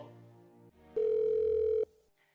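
A phone call rings through as a single sustained electronic tone lasting just under a second, heard after a short softer lead-in and followed by fading quiet.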